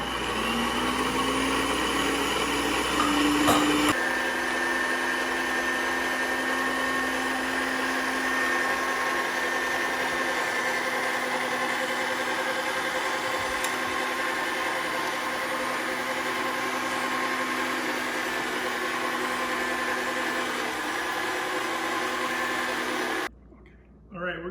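A meat grinder runs venison mixed with fat through a second pass, a continuous loud motor hum and whine holding steady for over twenty seconds before cutting off.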